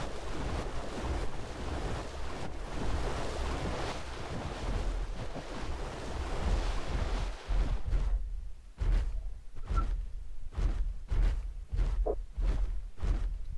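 Continuous water and surf wash in the PUBG Mobile game, a loud rushing churn that later breaks into repeated splashing bursts, with no speech over it.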